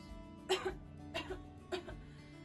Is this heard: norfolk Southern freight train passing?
no